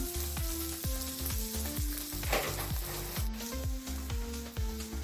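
Eggs roast in oil in a pan with a pinch of salt, giving a steady, close sizzle and crackle throughout. A melodic tune plays over the frying.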